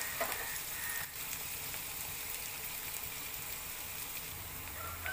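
Sliced onions frying and softening in a pan for a fish curry gravy, a steady close sizzle running the whole time with no talk.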